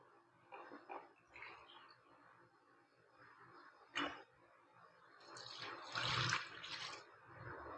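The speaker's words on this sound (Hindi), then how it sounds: "पानी डालते हैं इसमें।" Water is poured into a pot of browned beef for pulao, a faint splashing pour with scattered drips and clinks, rising to a fuller gush near the end.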